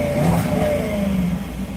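A Bentley car engine revving briefly, a close, throaty rumble that rises and then eases off over a couple of seconds.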